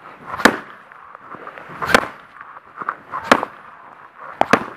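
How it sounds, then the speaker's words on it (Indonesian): Four sharp, loud cracks of hard strikes with a toya fighting staff, spaced about a second and a half apart, each a crisp snapping impact with quiet pauses between. "nah, ini kita pukul yang keras"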